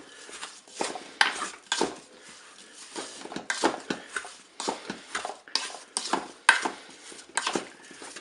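Apricot pieces and sugar are stirred in the metal bowl of a Cookeo multicooker for jam, with repeated scraping and clinking of a utensil against the pot in an uneven rhythm, close and fairly loud, with no talking.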